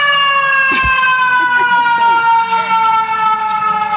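An ambulance siren wails loudly and steadily with a strong harmonic tone that slowly falls in pitch as it passes, while a voice talks faintly underneath.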